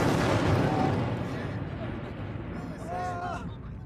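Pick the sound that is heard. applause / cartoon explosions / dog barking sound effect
cartoon explosions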